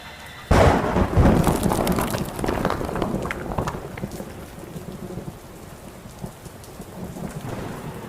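A lightning strike in a VR game lands with a sudden loud crack of thunder, then rolls into steady heavy rain that keeps falling to the end of the clip.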